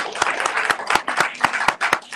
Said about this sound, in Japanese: もう一度拍手をお願いします。